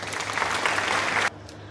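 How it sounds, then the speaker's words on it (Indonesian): A classroom group at a teaching-practice session gives a short burst of applause, dense steady clapping for just over a second that cuts off abruptly into quiet room tone. "mari kita beri tepuk tangan dulu kepada Putri."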